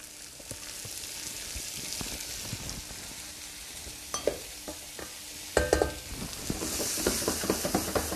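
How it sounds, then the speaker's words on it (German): Carrot cubes sear in hot sesame oil in a pan, giving a steady crackling sizzle with scattered pops and the clink of a stirring utensil, close and fairly quiet, with no talking. "Auch wieder schön scharf anbraten."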